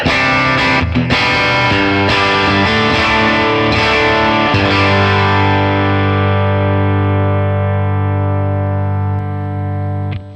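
Electric guitar played through a Dr. Z Z-80 amp and BB cabinet, loud and distorted, a few picked notes and chords ringing into one sustained chord that decays slowly to the end, with no talk.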